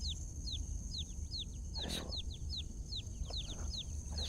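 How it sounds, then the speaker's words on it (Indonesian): Baby chicks peep in a quick, even series of high, thin chirps that repeat steadily throughout. The peeps sound faint and somewhat distant over a low hiss of background noise. "Ada suara anak ayam ya?"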